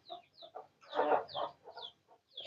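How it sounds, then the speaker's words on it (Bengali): Caged chickens, including American Brahmas, clucking in a dim coop: repeated close, short clucks and squawks in an uneven rhythm, with no talk. "আমার এই মুরগিগুলো কিভাবে আমি খাঁচায় বন্দি করে"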